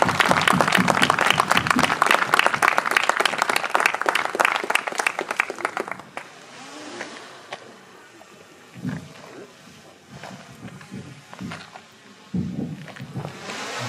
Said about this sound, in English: And we all need to give them a big applause and thank them for their presence today with us.